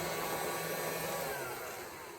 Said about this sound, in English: The Dyson vacuum for toddlers that we got off of Amazon.